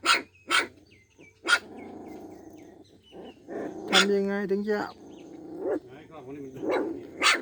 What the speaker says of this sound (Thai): โอ้เห่าเห่าดีเชียวเห่าดีเชียว